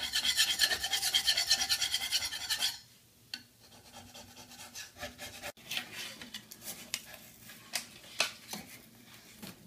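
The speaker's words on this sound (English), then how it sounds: "So this is what he's having to do, is scrape this off." Glue being scraped off a plastic bathroom cabinet, a loud, rhythmic rasping at first, then quieter, irregular scrapes and scratches close by.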